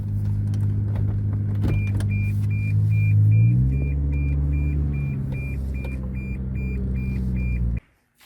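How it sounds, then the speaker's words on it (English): A truck pulls in with a loud, steady engine rumble that rises and shifts in pitch. A regular electronic beep repeats over it, and everything cuts off abruptly at the end. "looks like I got a truck guy that's trying to get in here"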